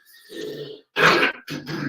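A person grunts and clears their throat, then gives a couple of short rough coughs, close and fairly quiet.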